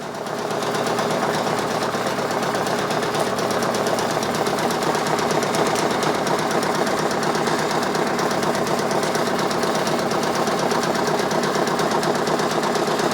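A Brother Persona PRS 100 embroidery machine stitches in a fast, unbroken mechanical chatter, loud and close, holding an even rhythm throughout with no voices.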